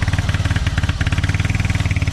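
A tricycle motorcycle engine runs close and loud, its steady rapid firing pulse rising and easing slightly as the machine is driven along, with no talk over it.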